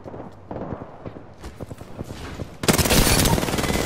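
Gunfire in the shooter game Apex Legends, scattered sharp shots at first, then a loud sustained burst of rapid fire in the final second.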